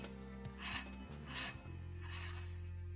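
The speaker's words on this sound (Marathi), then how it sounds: "दोन्ही आपलं व्यवस्थित छान खरपूस भाजून झालेला आहे. तुम्हाला दाखवते का, असा आवाज आला पाहिजे." Leftover chapati sandwich, pan-roasted until crisp, gives dry crunchy rasping scrapes in three bursts over a steady low hum, close and fairly quiet, with no talking.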